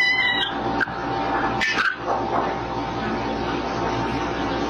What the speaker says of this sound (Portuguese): O gato latiu